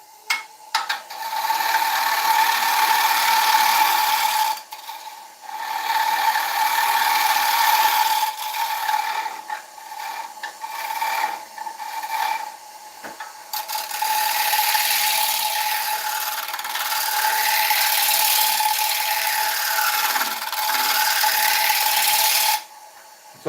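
Cordless drill driver working on an oak bowl to remove a disc, a whirring, ratcheting mechanical buzz in long bursts separated by brief pauses, loud and close with no talking.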